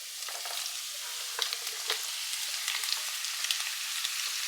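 Chicken frying in a pan with chopped garlic, capsicum and onion for chilli chicken, giving a steady close hiss of sizzling oil broken by a few light stirring scrapes, with no talking.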